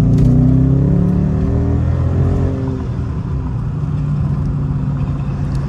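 A Dodge Charger R/T engine in sports mode revs loudly up close, a deep harmonic growl that climbs and then settles into a steady, heavy idle rumble.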